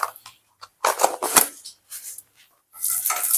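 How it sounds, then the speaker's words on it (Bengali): Half a spoon of black cumin seeds is tempered in hot oil for a bata fish curry. The seeds crackle and spatter in short, sharp bursts separated by brief pauses, fairly close. "এবার ওই তেলের মধ্যেই আমি এখানে 1/2 চামচ কালো জিরে ফোড়ন দিলাম।"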